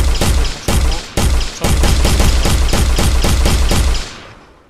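Rapid bursts of loud gunfire from a weapon fired in an Unreal Engine 5 demo scene, a steady string of closely spaced shots with brief gaps, then a sharp stop and short tail.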